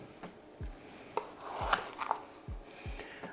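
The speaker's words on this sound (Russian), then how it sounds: "Теперь я накрошу мелко зелень." A knife finely chops fresh herbs on a board, a handful of distinct, close, sharp thuds spaced irregularly with light rustling between, quiet and alone without talk.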